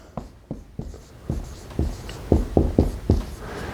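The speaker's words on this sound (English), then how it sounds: "Let me write that in there." Pen or pencil writing notes by hand, a series of separate scratchy strokes in an uneven rhythm, close and fairly clear, with no talk over them.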